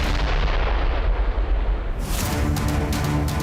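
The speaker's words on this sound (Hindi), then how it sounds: "इन धुंधली तस्वीरों में इराक के अल अनबर इलाके में एक कार भागी जा रही है और तभी एक जोरदार धमाका होता है।" A car speeding through Iraq's Al Anbar region is hit by a loud explosion, a heavy rumbling blast with a dense low roar and crackle that continues for several seconds.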